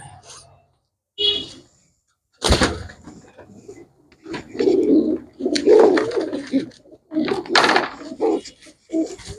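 Pigeons offered for sale coo in short, throaty bursts close by, broken by brief gaps, while someone talks in between and over the calls.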